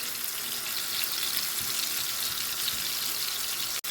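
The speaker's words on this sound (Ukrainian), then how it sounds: "Підсмажити з обох боків. Перевертати туди-сюди, щоб підсмажилося." Liver frying in a pan, being turned from side to side, heard as a steady, close, hissing sizzle that stays even throughout, with a brief cut at the very end.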